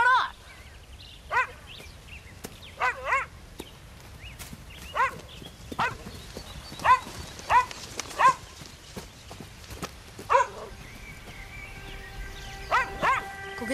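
A dog barks in short, sharp yelps, scattered irregularly across the stretch at moderate distance, with voices and room noise underneath.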